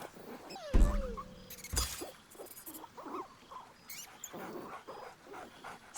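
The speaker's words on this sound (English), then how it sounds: "Scratch barks merrily in something like agreement" A dog in the video game Baldur's Gate 3 barks merrily, with a sharp yelp followed by scattered short excited barks and snuffling noises at moderate volume.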